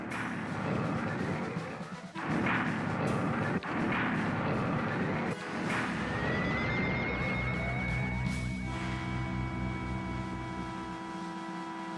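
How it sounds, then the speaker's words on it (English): Warships in an anime space battle open fire, a dense barrage of booming, repeated blasts over a steady roar, followed by a rising whine and sustained electronic tones, loud and continuous without talk. "All ships, prepare to fire!"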